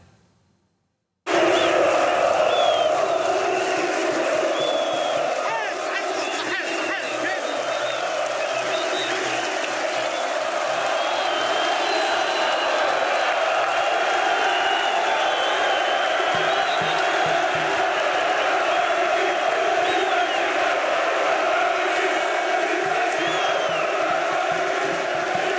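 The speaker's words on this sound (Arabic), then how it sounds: "الفيديو اللي كان في أول مباراة أمام اتحاد العاصمة كل الجمهور ينادي باسمك" A large football stadium crowd at a match against USM Alger chanting a player's name, a sustained loud roar of massed voices with rhythmic swells, played back continuously after a brief silent start.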